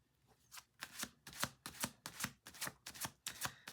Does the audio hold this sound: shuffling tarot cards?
yes